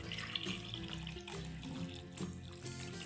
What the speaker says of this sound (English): Cover the eggs in the warm water.